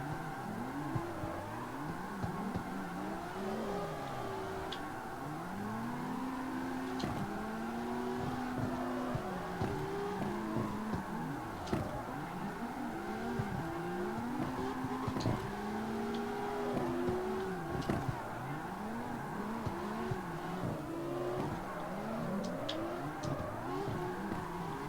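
A car engine in the CarX Street racing game revs up and drops again and again, each climb and fall in pitch following quickly on the last, loud and close without any talk.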